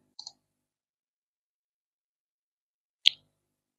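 Two crisp computer mouse clicks in a quiet room while working in Civil 3D, one near the start and a sharper, louder one about three seconds later, with silence between.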